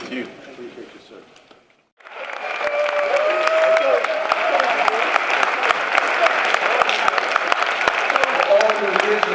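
After a brief stretch of speech, a crowd breaks into sustained, loud applause that continues steadily to the end.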